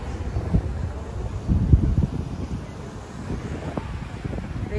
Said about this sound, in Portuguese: Tá um vento, gente, tá um frio danado.